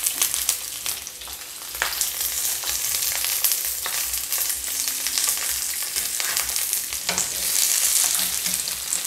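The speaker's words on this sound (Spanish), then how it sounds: "Esto lo vamos a echar aquí en la sartén. Vamos a poner también la cebolla en gajos y los 2 dientes de ajo" Onion wedges and garlic cloves sizzle and crackle in a frying pan, a close, continuous hiss with occasional stirring scrapes and no talking.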